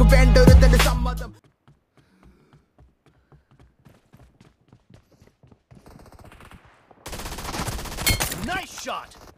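Gunfire in BGMI's Gun Game mode on the Library map: a loud, dense burst of shots up front, a long near-silent stretch with faint ticks, then a second sustained flurry near the end.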